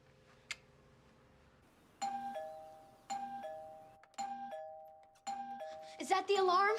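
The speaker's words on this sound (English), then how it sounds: "The doorbell won't stop ringing." A doorbell chimes over and over in quick succession, several two-tone dings at a moderate distance, building into a faster cluster at the end.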